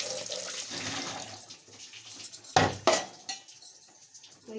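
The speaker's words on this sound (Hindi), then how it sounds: "तो बस मैं ना आटे के लिए पानी ले लूँ, ठीक है, पानी में डाल के रख लूँ।" Tap water running into a vessel in a home kitchen to make dough, a steady rushing stream with a few sharp clinks of dishes partway through.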